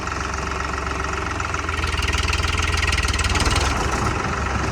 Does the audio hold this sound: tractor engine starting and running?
yes